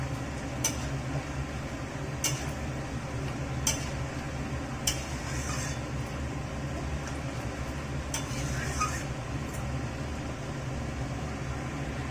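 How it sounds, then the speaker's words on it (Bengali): Fish curry broth with potatoes and tomatoes bubbles in a pot, a low steady simmer with a few sharp clicks from utensils or the lid at intervals, close and even throughout. "দেখুন ঝোল খুব ভালোভাবে ফুটে গেছে"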